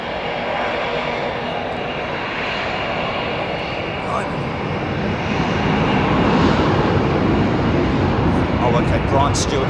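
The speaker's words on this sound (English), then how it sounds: "You can hear the note difference between CFM growls at a certain power setting" CFM jet engines on an airliner spool up at Heathrow, a loud, steady broadband roar that swells further toward the end, with a voice faintly present beneath.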